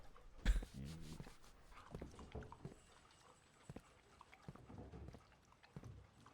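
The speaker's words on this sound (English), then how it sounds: "Oh, you can pet the puppies." Puppies in the video game Blue Prince whimpering softly, with small yelps and whines spread across the clip over faint game ambience.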